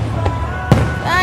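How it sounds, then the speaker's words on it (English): At a 4th of July show, big fireworks thump in the distance, one dull boom followed by a sharper crack, while a voice speaks over them. "That is a really, really, really big firework."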